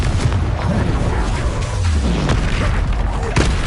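Confringo spell explosion in the video game Hogwarts Legacy: a loud, dense booming blast filling the whole moment, with rumbling low noise and a short sharp burst near the end.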